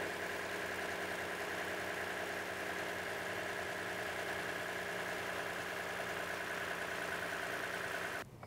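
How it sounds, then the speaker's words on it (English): A vehicle engine idles with a steady, even hum and a faint rhythmic knock throughout, then cuts off abruptly at the very end, leaving near silence. "then I'll shut the vehicle off."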